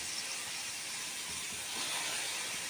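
Chopped bitter gourd hits a hot pan for a bitter gourd and mango stir-fry, giving a continuous, even broadband sizzle that holds steady throughout, close and unaccompanied by speech.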